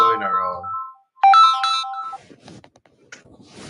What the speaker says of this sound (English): sorry, someone was ringing me